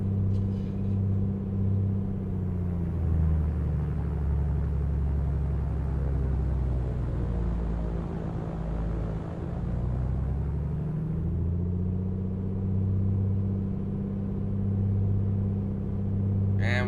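Piper Comanche engine in a flight simulator during run-up while the propeller is cycled, a steady low piston drone that dips in pitch and loudness midway as the prop cycles, then recovers, with no voices.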